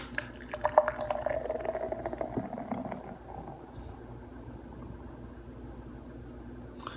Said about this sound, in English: Let's go ahead and give it an aggressive pour.